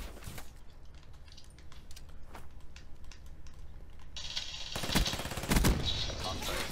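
Gunfire in the video game Black Ops 3 sounds as bursts of rapid shots, quiet at first and then louder near the end, mixed with faint keyboard clicks.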